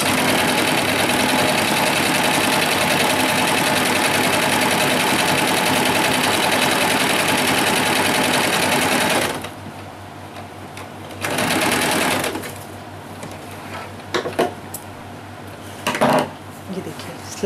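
A sewing machine runs continuously, stitching a double-layer net fabric dress with a dense, rapid mechanical whir that stops abruptly, leaving quieter handling clatter and short bursts of stitching afterward.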